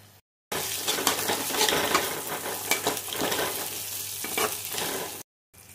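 Mutton fries in a pan for biryani with a loud, dense sizzle and scattered stirring scrapes, starting and stopping abruptly after a short silent gap at each end.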